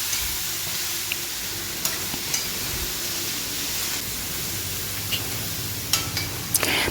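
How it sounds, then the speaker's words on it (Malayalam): A salted curry is stirred in a pot over steady frying hiss, with occasional scrapes and taps of the spoon against the pot, close and continuous without any talking. "നന്നായിട്ട് ഇളക്കിയിട്ട് അടച്ച് വയ്ക്കാം നമുക്ക് കേട്ടോ"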